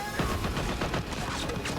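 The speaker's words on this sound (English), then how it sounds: "Killed by this dude with a fat mounted machine gun." A mounted machine gun fires in a Walking Dead scene, a dense, continuous rattle of rapid shots mixed with crashing impacts, loud and close throughout.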